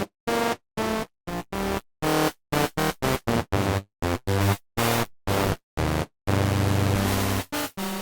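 Harsh, metallic flanged noise bursts from an extreme flanger effect in Ableton Live, chopped into rapid on-off pulses, ending in a longer sustained whooshing sweep, loud and processed.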